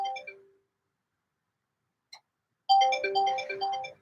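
A telephone ringtone plays in a home, a short melodic burst fading out, then silence with a brief blip, then a louder repeating electronic tune returns near the end.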